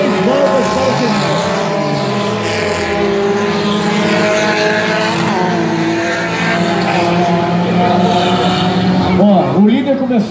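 Race cars in the light category at the Barródromo de Jacaraípe dirt track roar past one after another, engines rising and falling in pitch as they lap, loud and near, with a commentator talking over them.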